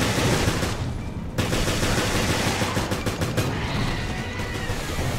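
Sustained rapid automatic gunfire from Resident Evil Revelations, loud and dense throughout, with a brief break before the bursts resume and trail into scattered shots.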